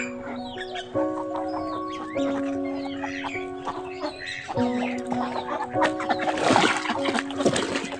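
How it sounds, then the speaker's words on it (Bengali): Chickens cluck and chatter steadily outdoors in a village, with other birds calling and some splashing or rustling noise. "পাখির আওয়াজ কলবর"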